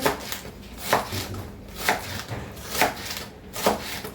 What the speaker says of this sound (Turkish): Evet, yeşil soğanlarımı da doğradım.